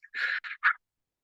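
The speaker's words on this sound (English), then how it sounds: "We are going to be using the blow breath, which is in and out using just the mouth." Three short, breathy puffs of air blown through the mouth, close and soft, in quick succession with brief gaps between them.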